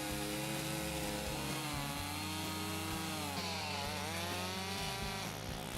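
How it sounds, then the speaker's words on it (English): A chainsaw cuts down a tree blocking a forest path in Maine, its engine roaring loud and steady, pitch dipping and rising as the chain bogs into the wood. "so he gave us a chainsaw"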